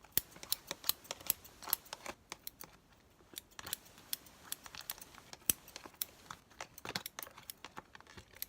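Scissors snipping through material while preparing a nakhla (hookah) mix, a quick irregular run of close, crisp cuts and clicks, fairly quiet, with no talking.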